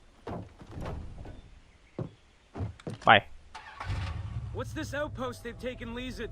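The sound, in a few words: car engine in video game Far Cry 3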